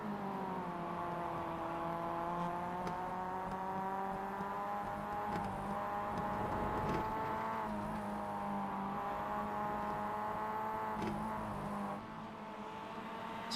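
Several Mazda MX-5 Cup race cars in the iRacing sim drone together at high revs, with steady overlapping engine tones rising and falling through gear changes, continuous and fairly close.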